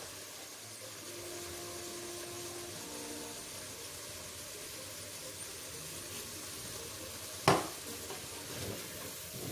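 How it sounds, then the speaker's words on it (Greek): Octopus with tarragon, coriander, salt, pepper and oil cooking in a pan, a faint steady sizzle running throughout and broken by a single sharp stir-scrape near the end. "Ανακατεύουμε."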